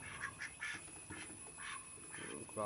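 Repeated nasal duck quacks in short bursts against a busy outdoor background, moderately close, with a faint voice nearby.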